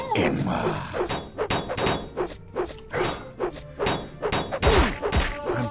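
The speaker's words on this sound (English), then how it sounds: "I'm banging off his shield, he's banging off mine." Weapons bang repeatedly off shields during a melee fight with a cultist wearing full steel armor in Skyrim, giving a run of close, irregular thuds and thunks mixed with speech.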